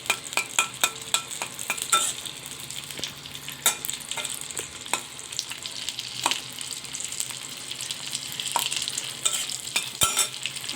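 Chilies fry in a spoonful of hot oil for a mashed dried-fish dish, giving a steady close sizzle with scattered crackles and stirring clicks throughout, no voices.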